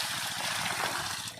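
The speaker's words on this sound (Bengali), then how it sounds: "কই মাছগুলো ধুয়ে নি।" Water sloshing and splashing steadily while koi fish caught from a Sundarbans canal are washed by hand, a close, continuous wet gushing with no talk.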